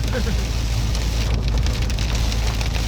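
Rain patters steadily on a surface in a forest, a dense close hiss with low rumbling underneath.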